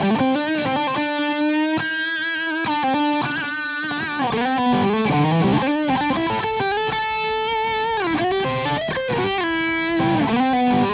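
An electric guitar with new pickups and a floating bridge plays a continuous distorted passage of sustained notes and bends, loud and alone without talk.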